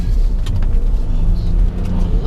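A Maserati car heard from inside the cabin as it drives through corners with the windows up, giving a steady, loud low engine and road rumble with no talk.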